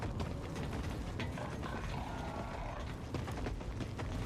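A malfunctioning door mechanism in The Forever Winter video game grinds and ratchets continuously, with creaking gear clicks and clanks, loud and close throughout.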